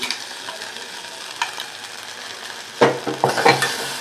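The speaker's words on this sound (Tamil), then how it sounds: "இது எல்லாத்தையும் வலிச்சு போட்டு நல்லா கிளறி இறக்கிடலாம்" Amla chutney being stirred in a pan, with a soft steady scrape and low sizzle, then several louder spoon scrapes and knocks against the pan near the end.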